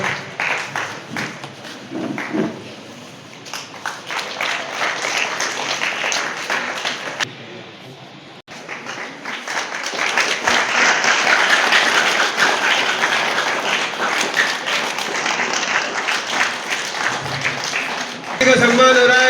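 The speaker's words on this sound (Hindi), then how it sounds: "ताली बजा के सभी बच्चे इनका सम्मान करें।" Students clap steadily to honour guests at an Aakash coaching seminar in Wazirpur, a dense, continuous roomful of applause that briefly dips before swelling louder, with someone speaking over it.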